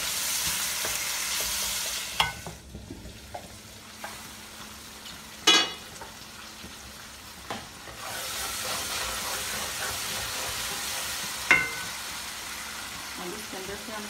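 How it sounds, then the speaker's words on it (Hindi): Tomatoes fry and get stirred in a pan for chicken tikka BBQ biryani: a continuous close sizzle with steamy hiss, broken by a few loud spoon scrapes and knocks against the pot. "टमाटर डाल के हम इसको 3-4 मिनट और भूनेंगे अच्छी तरह से।"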